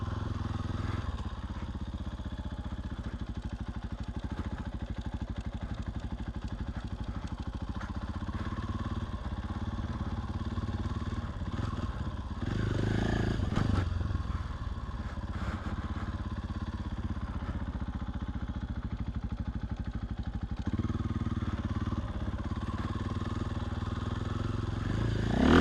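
A motorcycle engine drones steadily at low speed during obstacle practice, with a brief throttle surge near the middle and light mechanical clatter throughout.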